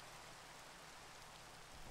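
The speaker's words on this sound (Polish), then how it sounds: "O Boże, czemu deszcz już pada?" Steady rain falling in the Minecraft video game, a soft, even hiss of dense drops with no other sounds, quiet and continuous.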